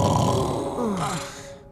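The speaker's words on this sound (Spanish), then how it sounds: "Está roncando otra vez." A cartoon uncle snores, a low rumbling grunting snore that fills the short clip and then trails off near its end.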